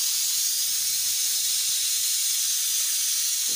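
A steady, loud hiss of steam rushing out under pressure from a pressure cooker of cooked dal, continuous and unbroken throughout.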